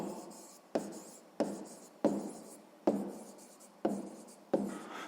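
A pen writes numbers on paper during a sixth-grade math exercise: about seven scratchy strokes in an even rhythm, each starting with a sharp onset and fading, heard up close with no speech.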